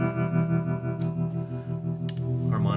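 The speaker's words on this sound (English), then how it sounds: "Standard one sounds like this." A Chase Bliss guitar pedal set to its standard, choppier mode processes a sustained chord with distorted, chorus-like modulated tone, steady and close, with a few brief higher flutters partway through.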